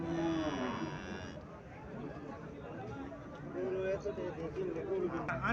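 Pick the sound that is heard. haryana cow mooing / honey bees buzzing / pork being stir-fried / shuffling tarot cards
haryana cow mooing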